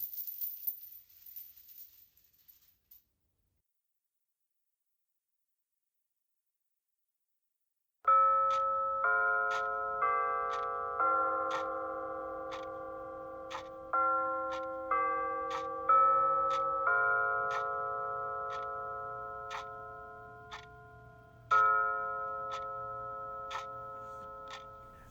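A bell chimes in a radio-play staging of A Christmas Carol, starting after a few seconds of silence. It then sounds about a dozen resonant strikes with overlapping ringing tones, alone and fairly close.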